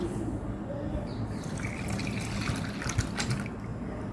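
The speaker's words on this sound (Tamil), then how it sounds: "நல்லா தண்ணி ஊற்றிடலாம்" Salted water pours steadily into homemade dishwashing liquid, a soft continuous splashing trickle with a few brief drips, fairly quiet and with no talking.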